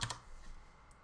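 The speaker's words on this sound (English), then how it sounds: "I'm gonna type in Twixtor" A short burst of clicks from a computer keyboard as someone types a plugin name into video editing software, close and fairly quiet.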